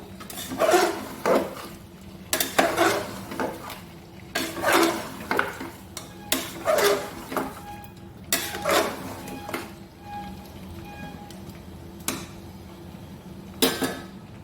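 Fried potatoes going into a pot of mutton curry, heard as a series of close, uneven scraping and clattering strokes of a spoon against the pot, with quiet pauses between.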